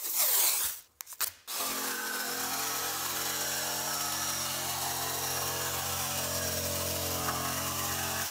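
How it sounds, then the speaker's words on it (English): Jigsaw cutting through wood with an aggressive blade, a continuous rough buzzing rasp after a few brief starts and stops, loud and close for most of the clip. "So let's try it with a jigsaw."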